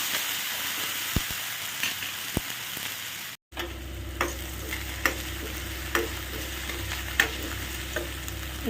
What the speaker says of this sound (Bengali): যেহেতু আলুটা ভাজতে একটু সময় লাগে, তো প্রথমে দিয়ে দিলাম